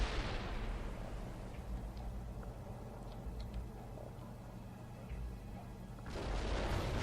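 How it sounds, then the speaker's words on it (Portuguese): Artillery fire lands in the video game World in Conflict: a moderate, rumbling barrage of distant booms and crackles runs throughout, with a louder burst swelling in at the end and no talk over it. "Tiro de artilharia caindo do céu."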